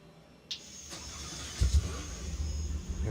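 Porsche 911 GT3R race car in the RaceRoom Racing Experience game, a short burst of engine sound that starts with a sharp click, builds into a low rumble and rises slightly, fairly quiet.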